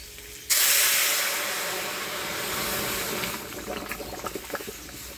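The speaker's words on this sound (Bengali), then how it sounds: "এবার ডালগুলো দিয়ে দেব।" Red lentils (kalai dal) go into a hot pan with dried chillies, bay leaf, five-spice and crushed ginger, setting off a sudden loud sizzle and hiss that settles into a steady bubbling spatter.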